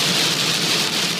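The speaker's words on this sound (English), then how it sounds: "with the rain coming this hard" Heavy rain pours down in a steady, dense hiss during a storm on a quiet road beside a broken-down truck, loud and constant with no talking.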